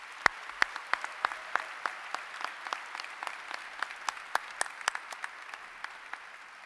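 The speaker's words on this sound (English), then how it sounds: "Please join me in applauding these special guests." Applause from a commencement audience at an engineering school ceremony, heard as sparse, distinct individual claps scattered over a quiet room rather than a dense ovation, steady throughout and fairly faint.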